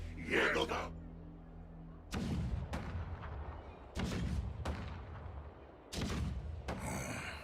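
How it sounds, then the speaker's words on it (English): Heavy booming cannon blasts in the video game Honkai: Star Rail land every couple of seconds, each followed by a deep rolling rumble, loud and close, with a brief voice-like sound at the start. "The rumble of the cannons."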